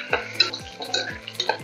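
Crushed garlic and ginger sauté in ghee and oil in a pan for dal khichdi, with a spatula stirring and scraping in quick repeated strokes over a soft sizzle, close and clear.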